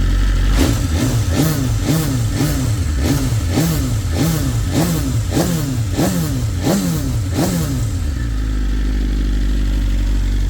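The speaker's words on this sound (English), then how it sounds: "This bike sounds great." A BMW S 1000 RR sport motorcycle engine revs repeatedly in quick rhythmic bursts, rising and falling about a dozen times up close, then settles to a low idle.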